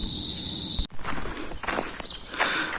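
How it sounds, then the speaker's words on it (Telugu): Crickets or grasshoppers shrill loudly in a rural village in Lakkavaram, East Godavari, a dense high-pitched drone that cuts off sharply, then continues more faintly with scattered rustles and footsteps nearby. "ఆ మిడతల సౌండ్ చూడండి ఎలా వస్తుందో."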